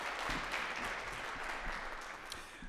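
A jazz concert audience applauds after a solo, an even, moderately soft spread of many hands clapping throughout.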